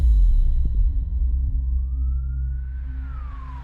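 An ambulance siren rises as a single slow wail over a heavy low engine-like rumble that fades, the tone climbing and then falling away near the end.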